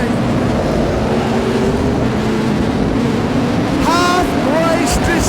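A super sedan race car drones steadily around the dirt oval at Charlton Raceway, its engine roar blending into constant broadband crowd and track noise, with a few brief higher tonal squeals near the end.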